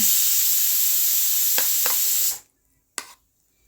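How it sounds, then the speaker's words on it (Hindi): A pressure cooker whistle blows steam in a home kitchen, a loud continuous hiss for over two seconds that cuts off abruptly, followed by a few short clicks and a brief burst. "सीटी बज रही है कुकर की"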